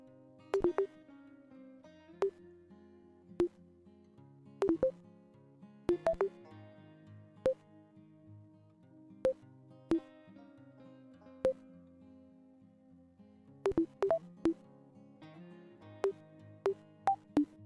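A sequence of short electronic alert tones and beeps from MetaTrader trading indicator sound files, sounding as sharp isolated pings and clustered pairs spread irregularly over a soft, steady background hum.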